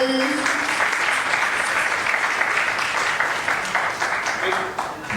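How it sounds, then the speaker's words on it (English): An office audience at a company rewards and recognition event applauds as employees step forward, with sustained, fairly loud clapping that carries on evenly and thins slightly toward the end. "Round of applause, people."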